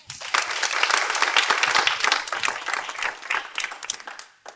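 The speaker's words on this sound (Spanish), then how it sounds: "Un fuerte aplauso" A crowd at a library event in Avellaneda, Argentina breaks into loud, dense applause, hands clapping rapidly for several seconds before the sound tapers off and fades out.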